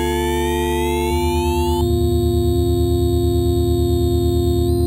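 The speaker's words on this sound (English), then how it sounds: "analog bit crushing sound just utterly beautiful" Analog bit crushing with sample rate reduction applied to a synth signal, heard as steady sine-like tones that step and sweep upward into a buzzy, chunky pulsing drone, loud and alone with no voice.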